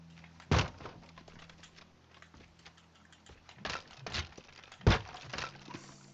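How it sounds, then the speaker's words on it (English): A locked car door is smashed in the Teardown video game, heard as several sharp cracking impacts and thuds with rattling debris between them, fairly quiet overall. "We're going to smash this because the door's locked for some reason."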